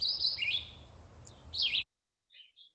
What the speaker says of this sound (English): And the bird sings on and on through the nesting period.